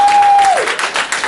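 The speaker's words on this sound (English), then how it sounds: "go ahead and clap for yourselves now" People in a seminar audience clap for themselves in a brief, loud burst, a steady tone sliding down at the start as the clapping rises and continues to the end.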